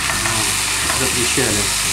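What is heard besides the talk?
seafood sizzling in heated oil in pan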